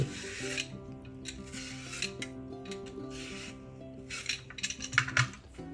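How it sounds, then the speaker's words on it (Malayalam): A knife peels the skin off a raw plantain in quick repeated rasping scrapes, close and crisp, over soft tonal music in the background. "തോലെല്ലാം ചെത്തി ഏത്തക്ക നമുക്ക് രണ്ടായിട്ട്"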